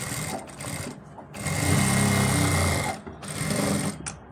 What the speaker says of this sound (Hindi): इस पर एक किनारे की सिलाई लगाएंगे हम ऐसे